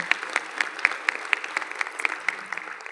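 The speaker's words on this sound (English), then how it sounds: "And I just want to give them a round of applause too." Scattered, fairly sparse clapping from a conference audience, individual claps distinct and rhythmic, moderately quiet and continuing steadily with no talk over it.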